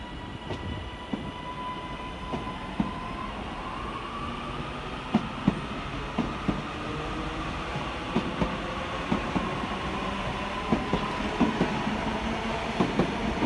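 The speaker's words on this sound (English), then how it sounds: "Next out to depart is 331-015 and 331-020 with the 1237 Northern service from Manchester Airport through to Blackpool North." Two coupled Northern Class 331 electric units, 331-015 and 331-020, depart Manchester Oxford Road on the Airport to Blackpool North service, a steady rolling rumble with rhythmic wheel clicks and a faint rising whine, heard from the platform.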